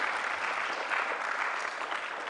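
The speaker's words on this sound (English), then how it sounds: "Please, let's give them a round of applause." Audience applause at a concert hosted in Uganda, a steady, even round of clapping from a room of people, moderately loud and continuous throughout.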